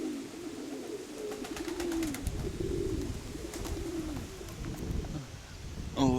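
Several pigeons coo in low, rolling phrases, close and fairly loud, with soft wingbeats and faint chirps scattered through and a sharper call near the end.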